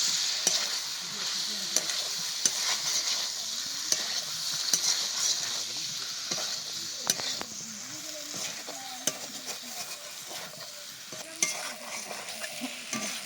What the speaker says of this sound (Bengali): চিংড়ি মাছ, পটল, আলু সব একসাথে দিয়ে দিচ্ছি। তারপরে একটুখানি কষিয়ে তারপর জল দিয়ে দেবো।